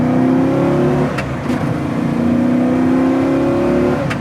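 A 1971 Chevy Nova restomod with a fuel-injected LT1 V8 and six-speed manual revs up loudly and close, its engine note rising through two pulls with a short break between them.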